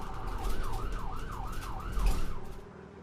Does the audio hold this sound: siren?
yes